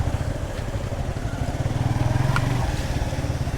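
Motorcycle engine droning steadily and fairly loud as the bike is ridden out to Chera Dwip near Saint Martin's Island, a low rumbling throb with no talk over it.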